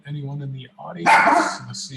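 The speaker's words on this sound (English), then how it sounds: "Sorry about my dog." A dog barks once, loud and close, in a home during an online city council meeting, between stretches of someone speaking.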